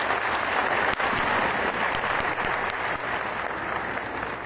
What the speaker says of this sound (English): welcome him on stage with big applause